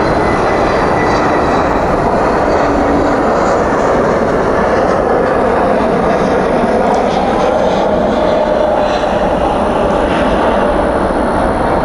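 An airliner landing at DFW at night with spoilers up and thrust reversers out makes a loud, sustained, close roar that holds steady for the whole stretch.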